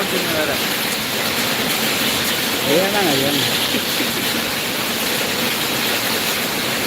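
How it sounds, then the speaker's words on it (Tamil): Heavy rain pours down in Malaysia as a dense, steady hiss, with a voice talking faintly beneath it. "மழை பெய்யுது மலேசியாவில்"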